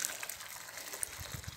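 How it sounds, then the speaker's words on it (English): Hot water poured into a pot holding MRE chili con carne from a Hungerbuster 24-hour ration pack: a soft, brief gushing trickle, faint and close, with no talk. "add some hot water."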